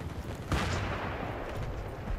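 Gunfire in the Battlefield 3 video game on Wake Island: a sharp shot or blast lands mid-clip over a dense, noisy battle background. No voices are heard.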